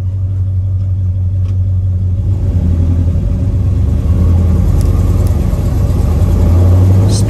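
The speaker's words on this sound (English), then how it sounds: "Car sounds great." A 1967 Chevrolet Chevelle SS396 V8 idling, a loud, steady deep rumble heard close up throughout with no breaks.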